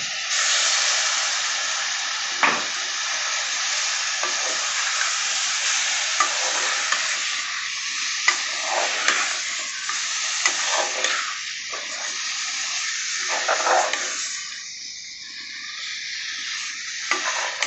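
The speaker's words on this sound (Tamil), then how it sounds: "மசாலா பச்சை வாசனை போகிற அளவுக்கு நல்லா வதக்கி விட்ருங்க" Half a kilo of chicken with masala sizzles loudly in a hot pan for chicken kurma while a utensil scrapes and stirs it, with steady frying hiss and occasional clinks throughout.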